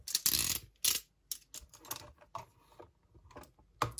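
A Hot Wheels Tesla Model Y diecast package being opened up close: bursts of crinkling plastic and cardboard, with clicks and short tearing scrapes, loudest at the start and again near the end.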